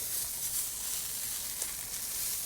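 Steady, hissing sizzle of a frozen steak searing on a hot flat-top griddle, continuous and even throughout with no talking.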